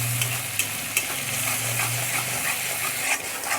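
Onion, cashew and masala paste fries in a pan for an egg bhurji gravy, a steady close sizzle with scraping stir strokes and a low hum running through.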